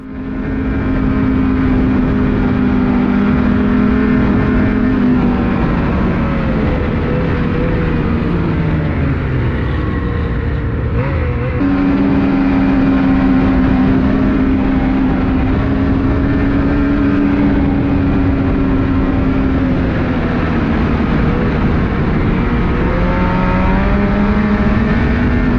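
Snowmobile riding a snowy trail through the Moose River Plains in a blizzard, its engine droning loud and steady throughout, with pitch rising and falling as the throttle changes.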